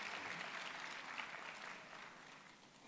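Audience applause at a 2022 university graduation ceremony for an engineering faculty, a steady dense wash of clapping held throughout at moderate, fairly distant level, easing slightly toward the end.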